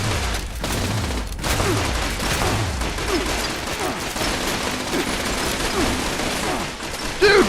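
Bursts of gunfire in the online game Fallout 76, dense rattling shots repeating steadily across the stretch at a moderate distance, with a bit of faint voice near the end.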